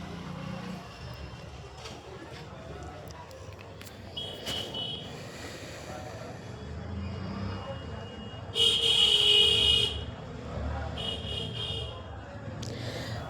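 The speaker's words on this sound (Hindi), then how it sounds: "आपको जो आवाज़ आ रही है ना बाहर से गाड़ी की, हमारे नीचे बाज़ार लग रहा है तो उस वजह से थोड़ा शोर हो रहा है।" Car horns from street traffic at a market below sound from indoors, with a couple of distant honks, one longer and louder, over a steady background of street noise.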